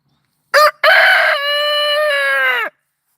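A rooster crows loudly and close by, one full cock-a-doodle-doo with a short opening note, a brief gap, then a long sustained call that ends abruptly, with silence around it.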